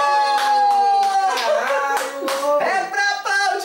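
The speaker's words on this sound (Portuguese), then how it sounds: "É pra aplaudir" Hands clap in a few separate bursts over a sustained, ringing tonal sound that bends in pitch. The claps are close and fairly loud.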